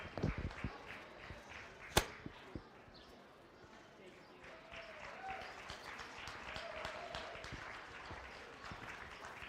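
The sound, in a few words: applause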